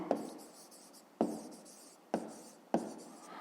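A hand writes a digit during a fifth-grade maths exercise: four sharp pen or chalk strokes land at uneven intervals, each followed by a short scratching drag, close and clear with no talking.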